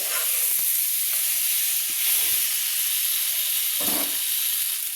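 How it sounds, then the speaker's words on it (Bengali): Flat beans, potato and eggplant sautéing with spices in hot oil for a fish-head curry give a steady, loud sizzling hiss, broken by a few soft scrapes of stirring. "এবার শিম আলু বেগুনকে আমি সুন্দর করে শিম আলু বেগুনকে আমি মশলার সঙ্গে কষিয়ে নিচ্ছি"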